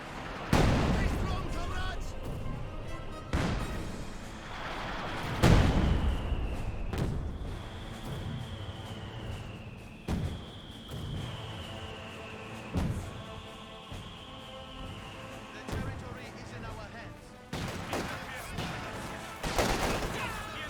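Penal battalion infantry fire rifles in a Company of Heroes 2 match, repeated sharp gunshot bursts and distant booms spread across the stretch, set under ongoing game commentary.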